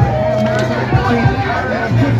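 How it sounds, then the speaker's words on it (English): Large protest crowd gathered outside the Maricopa County elections office, a steady close hubbub of many voices talking and calling out at once. "there's still a large crowd down here at the elections office"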